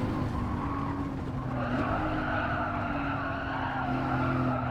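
Tires squeal steadily under a loud, droning sports car engine, a continuous skidding whine through a corner as the car understeers, with no talking.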